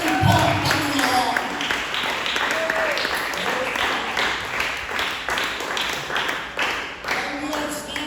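A congregation at a Sunday church service in Gattaran, Cagayan, claps in steady applause that runs throughout, mixed with voices and fairly distant.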